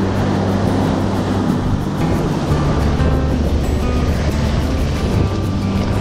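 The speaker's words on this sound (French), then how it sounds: "les vagues montent assez haut" Sea waves break and surge over slippery coastal rocks, a loud, constant roar of churning water up close with no pauses.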